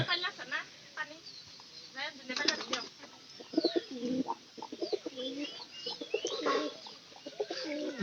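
Pigeons coo repeatedly in a loft, their soft throaty calls coming close and in bursts over a dense background of other bird chirps, with people talking at times.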